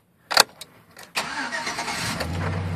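A 2007 Chevrolet Silverado starts up: a few clicks, then a brief crank and the engine catches into a steady idle, close and moderately loud, with no talking.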